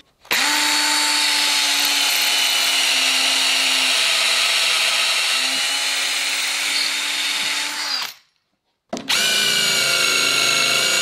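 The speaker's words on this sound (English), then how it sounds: "Now I'm going to drill and screw in 1, 2, let's say four screws up and under" A power drill driving screws into wood whirs steadily for about eight seconds with a brief dip in pitch, stops, then starts again, loud and close, with no talking.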